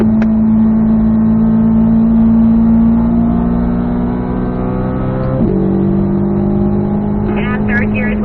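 Chevrolet Corvette C8 Z06 engine howling steadily at high rpm through a track lap, a strong harmonic drone with a sharp shift in pitch mid-pass as gears change, with a voice coaching under the engine noise.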